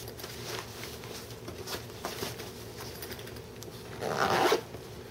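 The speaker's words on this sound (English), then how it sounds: "So, this all zips up." Zipper drawn along a computer tool bag, a close scratchy rasp that builds to a quick loud pull at the end, over faint background hum.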